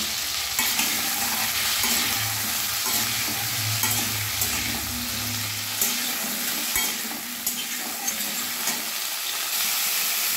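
Potato and cauliflower pieces fry in hot mustard oil with a little salt, a steady bright sizzle under repeated stirring and scraping in the pan, plus a low hum early on, close and continuous with no speech.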